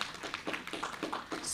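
Scattered clapping from a small audience at a productivity awareness week launch event, a brief, soft patter of individual claps.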